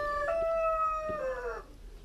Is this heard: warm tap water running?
no